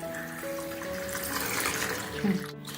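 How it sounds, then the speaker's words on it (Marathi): Water runs and splashes as kolam rice is rinsed in a kitchen, a steady close wash of tap water and stirring grains without talk. "सर्वप्रथम मी हे तांदूळ आता स्वच्छ धुवून घेणार आहे"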